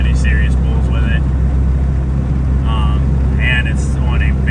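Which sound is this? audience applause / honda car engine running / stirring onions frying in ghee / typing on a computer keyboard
honda car engine running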